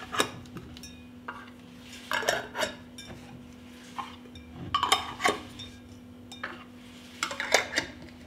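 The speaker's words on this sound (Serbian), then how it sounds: "Tegle zatvaram čistim poklopcima." Glass jars being closed with clean lids make sparse clinks and metallic scrapes of glass and metal in a quiet kitchen, with a steady low hum underneath and no talk.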